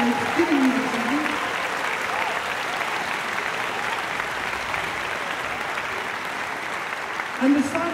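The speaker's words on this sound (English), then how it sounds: "please give them a huge round of applause for the wonderful evening's entertainment that they've given you this evening." A concert hall audience applauds steadily for a student symphony orchestra after an evening showcase, a dense sustained wash of clapping with brief voices at the start and end.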